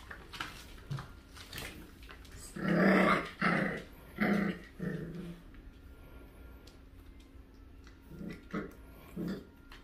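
A dog growls in a series of rough, rumbling bursts, loudest in the middle, while people talk quietly in the background; the dog is a poodle or a dachshund gnawing on a piece of metal.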